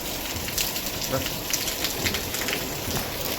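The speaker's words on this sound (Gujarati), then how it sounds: "વરસાદ થોડોક રહી ગયો છે." Light rain pattering steadily on surfaces, a soft continuous hiss with scattered drops, heard alone.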